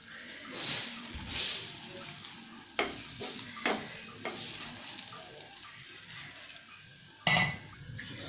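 Ragi (finger millet) dosa batter sizzles on a hot pan with a soft, continuous frying hiss, broken by occasional scraping and clinks of a ladle against the pan.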